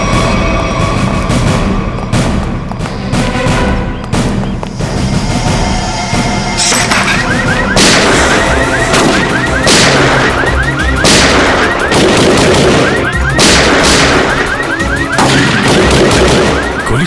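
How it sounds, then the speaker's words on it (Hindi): Rapid bursts of gunfire crackle repeatedly over a dense, loud background, with sharp cracks clustering in quick volleys throughout. "गोली चला कौन रहा है?"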